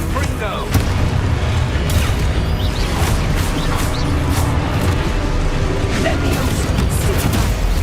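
Hogwarts Legacy combat with a Confringo fire spell: booming blasts land among constant loud battle clatter and effects. A voice shouts over the dense, unbroken din.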